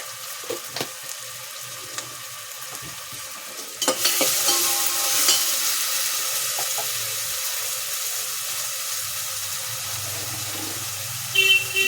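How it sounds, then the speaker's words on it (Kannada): Pongal ingredients being stirred in a pan, with soft scraping at first, then a louder continuous sizzling, hissing wash that holds steady to the end, with a few light clinks. "ಎಲ್ಲವನ್ನು ಚೆನ್ನಾಗಿ ಮಿಕ್ಸ್ ಮಾಡ್ಕೊಳ್ಳಿ. ಈ ರೀತಿ."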